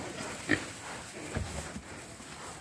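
Young feeder pigs rustle and scamper through freshly spread straw in a farm pen, with a short grunt or squeal near the start and soft scuffling and shuffling noises continuing at close range.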